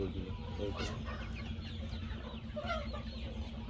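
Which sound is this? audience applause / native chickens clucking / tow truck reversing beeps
native chickens clucking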